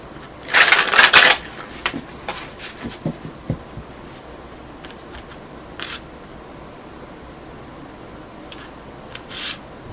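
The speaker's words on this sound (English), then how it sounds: "one more shuffle" Tarot cards shuffled briskly in a burst of riffling near the start, followed by scattered soft card taps and handling noises in an otherwise quiet room.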